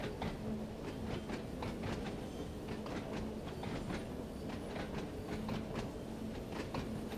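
Train wheels in Train Sim World 4 on the Isle of Wight line clack over rail joints in a steady rhythmic clickety-clack. The rumble of the moving carriages sits underneath, evenly paced and fairly quiet, with no voices.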